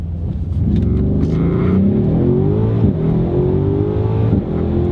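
An SUV launched hard from a standstill with manual clutch work and no launch control, engine revving loud and close as it pulls through rising gears with a brief shift dip midway.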